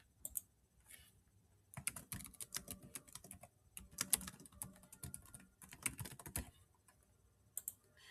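Brisk typing on a computer keyboard, close and clear, in irregular bursts of clicking keys separated by brief pauses, with no voices.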